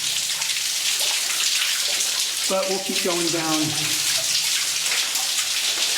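A steady rush of water pours from the rock in a flooded mine tunnel, close and continuous. Midway someone speaks briefly over the splashing.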